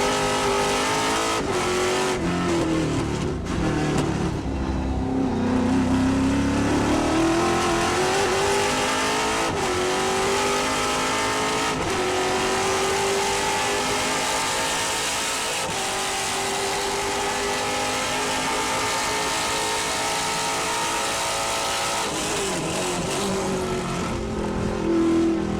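Trans Am race cars roar around Portland International Raceway, loud and continuous, with engines climbing and dropping through gears as cars pass close by. No voices are heard over the racing noise.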